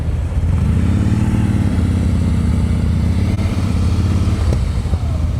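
Motorcycle idling and crawling at slow speed during a riding practice session, a steady close-up low engine chug with slight throttle changes throughout.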